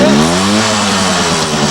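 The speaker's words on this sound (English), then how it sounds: "the launch of an army of 50cc motorcycles" A pack of 50cc motorcycles revs hard and loud at once, their buzzing pitch climbing as they pull away together.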